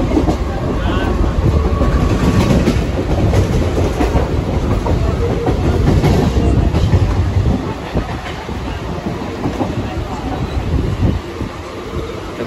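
A crowded local train runs at speed toward Dadar with a rapid, continuous clickety-clack of wheels on rail joints, heavy rumble and wind buffeting against the microphone, loud and close throughout, with passenger chatter mixed in.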